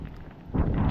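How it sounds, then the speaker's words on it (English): Gusty wind buffets the microphone outdoors on a walk in Maine, a low steady rumble that swells sharply louder halfway through, with no talking. "Wind is dying down a little bit now."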